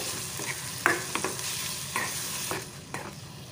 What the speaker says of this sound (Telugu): టమాటాలు సాఫ్ట్గా అయ్యేంత వరకు ఫ్రై చేసుకోవాలి